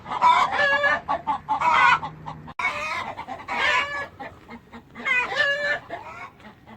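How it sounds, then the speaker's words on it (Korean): Several old-style country chickens cluck and cackle loudly in bursts inside a coop, with a rooster crowing among them, close by. "야 전형적인 옛날 시골 닭"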